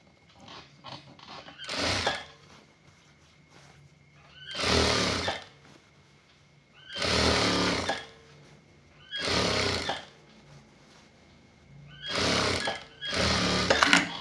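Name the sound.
sewing machine stitching a shirt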